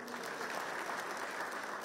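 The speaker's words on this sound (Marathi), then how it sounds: "पटलं तर टाळ्या वाजवा" Steady applause from a crowd at a political rally in Kagal, Maharashtra, a dense even clapping that fills the short moment without pause.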